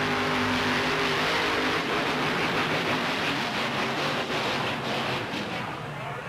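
Dragon Slayer monster truck at a stunt jump contest, its big engine roaring at high revs in a loud, unbroken blare with a rough low drone that eases only slightly toward the end.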